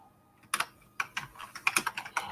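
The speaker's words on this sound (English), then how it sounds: "you can hear me typing" Someone types on a computer keyboard nearby, with quick irregular bursts of clicking keys, fairly quiet, with no talking.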